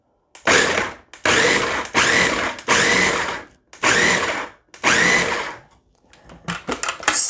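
Six short bursts from a food processor pulsing shredded cabbage for coleslaw, each a loud whirring buzz about half a second long with brief gaps between, followed by faint clattering.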